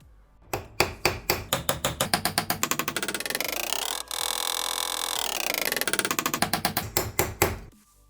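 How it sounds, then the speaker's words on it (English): A ball peen hammer peens over the ends of small metal toy-car axles in a fast, steady run of sharp taps, briefly pausing then resuming with another rapid series of ringing blows, close and loud. "now I've got to peen the end of the axles over using this ball peen hammer"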